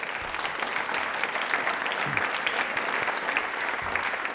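A studio audience on a quiz show applauds steadily, even crackling claps filling the space at moderate loudness without a break.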